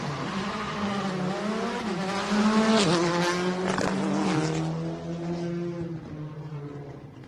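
A Hyundai R5 rally car launches off the start line on a stage of the Adelaide Hills Rally, its engine revving hard through rising gear changes with tyre squeal, loud and close before fading slightly.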